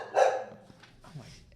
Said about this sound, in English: Maybe the dog's barking should just be the